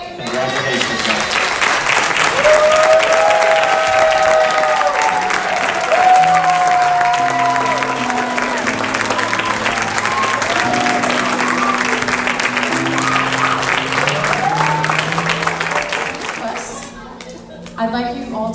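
Applause from a graduation audience, a broad, loud wash of clapping that carries on throughout, with murmuring voices and a few children talking underneath, and a sung or held tone drifting through the middle.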